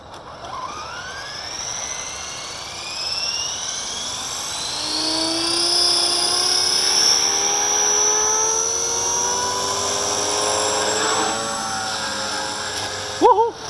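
A V450D01 drone hovers just after takeoff on its maiden flight, its high-pitched rotor whine steady and fairly close, shifting in pitch as it holds position, with a brief sharp noise near the end.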